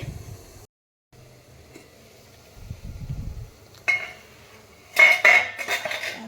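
Steamed chicken momos are lifted out onto a plate: scattered metallic clinks and clatter of utensils against the steamer and plate, with quiet gaps between and a burst of sharper clanking toward the end.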